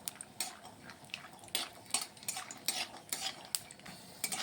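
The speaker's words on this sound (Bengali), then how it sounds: "এখানে আমি তেলের মধ্যে প্রথমে আমি বাদামগুলি একটু ভেজে নিচ্ছি" Peanuts frying in oil in a pan, with a metal spatula stirring and scraping in an irregular rhythm over a soft sizzle, close by.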